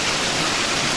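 Water pours steadily at a hidden waterfall in the Hebri area of Udupi, a continuous loud broadband rush with no pauses.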